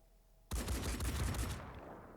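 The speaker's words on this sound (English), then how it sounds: "He's shooting at our supplies." An enemy crab soldier in Phoenix Point opens fire with a sudden burst of rapid gunshots that crack out for about a second, then trail into a fading echoing rumble; no talking.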